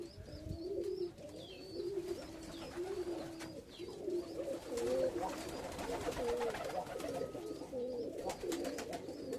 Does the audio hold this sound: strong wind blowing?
no